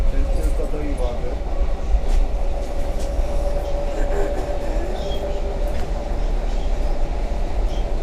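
Train at a Polish railway station, a steady loud rumble with a sustained mid tone and occasional clatter, people talking underneath.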